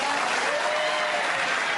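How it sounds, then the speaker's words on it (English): A brief, loud burst of continuous audience applause, many hands clapping at once in an even, unbroken wash. "Applause, please."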